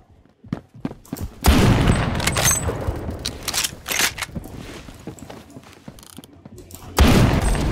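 Gunfire in the Phantom Forces video game with the BFG 50 rifle: a few loud, sharp shots land in bursts near the start, middle and end, with mechanical handling clicks and footsteps between them.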